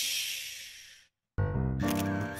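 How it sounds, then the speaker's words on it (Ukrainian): A cartoon camera shutter clicks once, cutting off a bright hiss, followed by a short silence and then a loud burst of music-like tones. "Фотоапарат."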